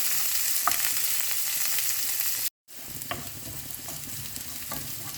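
Ingredients sauté in a pan of hot oil for sardine sambal, giving a steady, bright sizzle with occasional scraping stir strokes. A short silent break sits in the middle before the frying noise resumes.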